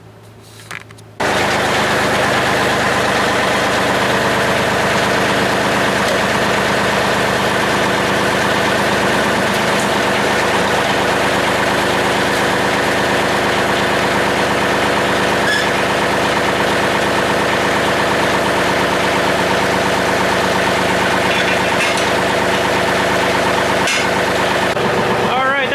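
A tractor engine idles loudly and close by, a steady low chugging rumble that starts abruptly and runs throughout.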